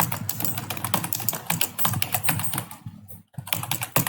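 Rapid, steady typing on a computer keyboard, close and clear, with dense clicking keystrokes that pause briefly near the end before resuming.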